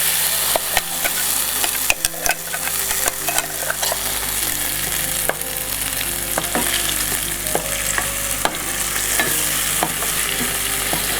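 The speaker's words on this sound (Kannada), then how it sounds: "ಚಟ್ನಿಗೆ ಒಗ್ಗರಣೆ ಕೊಟ್ಟು ಒಂದು 5 ನಿಮಿಷ ಅದನ್ನು ಫ್ರೈ ಮಾಡಿಕೊಂಡ್ರೆ" Ginger chutney with tempering sizzling and frying in a pan, a steady crackling hiss broken by frequent sharp scrapes and clacks of a stirring spoon, close and alone.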